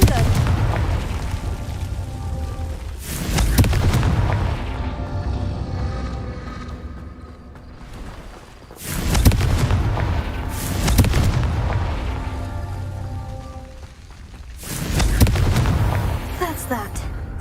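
Repeated Confringo fire spell explosions in the game Hogwarts Legacy, three heavy booming blasts spaced several seconds apart over a continuous rumbling background of combat noise.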